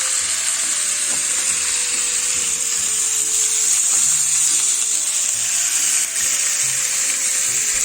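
Beef pot roast browning in a skillet gives a steady, loud broadband sizzle that holds evenly throughout, with faint low tones from the kitchen underneath and no talking.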